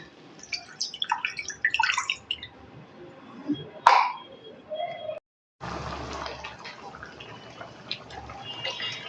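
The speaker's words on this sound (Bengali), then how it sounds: "মিক্সির বোলটা ধুয়ে এখন আমি একটু জল দিয়ে দেবো" Water poured and splashing into a rinsed mixer grinder bowl in a kitchen, uneven splashes and trickles with a sharp clunk midway, followed by a steady running-water hiss.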